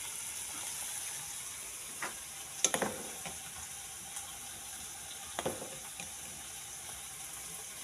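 Small fish fry in hot oil in a pan, a steady close hiss and sizzle with a few sharper crackling pops scattered throughout.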